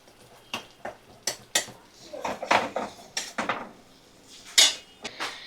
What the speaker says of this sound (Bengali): সমস্ত মশলা ভালো করে আমি কষিয়ে নেব।